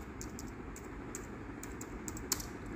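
Soft, fairly quiet keystrokes tap out code on a computer keyboard in an irregular rhythm, with one sharper key strike near the end, no voices.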